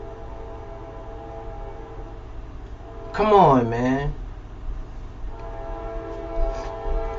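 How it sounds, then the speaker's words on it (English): A passing train sounds its horn in one loud, sustained blast of about a second over a low rumble, with someone talking before and after. "I got a train. Y'all hear the train?"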